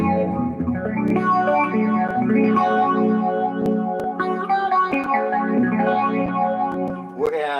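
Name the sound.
Zoom phase shifter guitar effect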